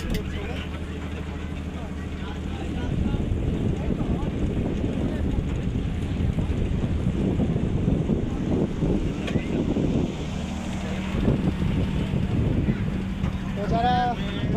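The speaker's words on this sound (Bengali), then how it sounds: "স্পিড বোর্ড আসতেছে।" A speedboat on open water, its steady engine drone and hum blending with wind buffeting the microphone and water wash throughout, fairly loud and continuous.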